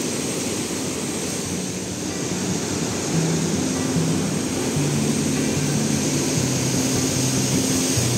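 Continuous roar of ocean waves breaking nearby on a beach at Vila Franca do Campo, São Miguel Island, a dense steady wash of surf with a low drone running beneath it.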